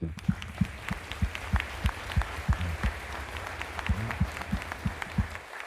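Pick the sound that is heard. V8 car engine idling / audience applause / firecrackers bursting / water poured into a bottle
audience applause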